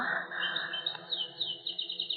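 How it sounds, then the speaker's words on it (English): Caged birds chirp in an old-time radio mystery drama, giving a steady run of high, bright tweets that repeat in quick, uneven bursts, fairly close and clear with no voices over them. "Those birds, I don't like them."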